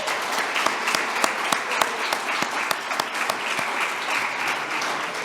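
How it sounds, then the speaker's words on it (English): Audience applause for honorees at a Women of Distinction evening ceremony, a dense sustained clapping from a full room with individual sharp claps standing out, no talking over it. "How about another round of applause for all of our honorees this evening?"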